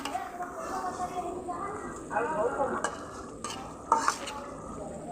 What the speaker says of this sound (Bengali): দেখুন মাছটা একটু নেড়ে চেড়ে ভালোভাবে দেই।